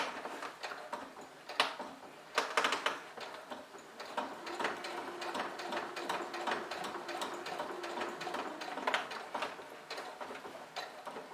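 Sewing machine stitching the seam around a rectangle for a large shoulder bag, running slowly with a steady rapid ticking rhythm and a few louder mechanical clicks, heard up close.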